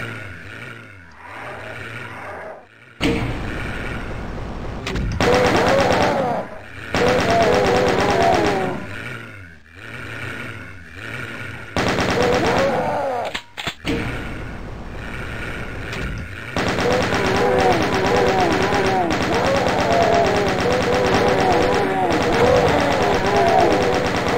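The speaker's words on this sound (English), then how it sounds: "Let's get a machine gun for this part as well." Rapid machine gun bursts from the classic shooter Doom, played on the Japanese Gardens level of a custom map, come in long loud stretches with brief pauses, mixed with monster roars and growls.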